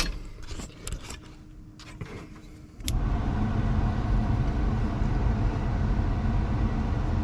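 Blower motor of a 1978 Chevy C10 switches on after a few seconds of light clicks and rustle, then holds a steady, loud broadband whoosh and hum to the end.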